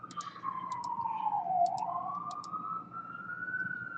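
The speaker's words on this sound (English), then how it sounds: "You hear the police sirens or the ambulance." A police or ambulance siren wails, its tone sliding down and back up, heard from a distance and fairly faint, with a few faint clicks above it.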